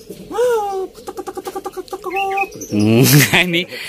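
Zebra dove (perkutut) cooing in a rhythmic run of short repeated notes, close and loud, with a voice talking over parts of it.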